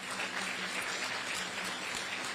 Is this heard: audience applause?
yes